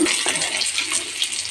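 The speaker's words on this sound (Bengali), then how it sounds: "মিডিয়াম হিটে ডিম লাল লাল করে ভেজে নেব।" Eggs frying in a pan on medium heat, a dense continuous sizzle that stays close and fairly loud throughout the short stretch.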